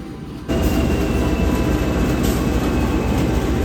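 Gajah Wong passenger train pulling out of Kroya station at night, a steady loud rumble of rolling stock that starts abruptly after a brief quiet moment and holds evenly, with a faint high whine running through it.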